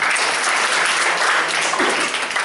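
Church congregation applauding during a sermon, a steady dense wash of clapping from a sizable crowd that fills the whole stretch without pause.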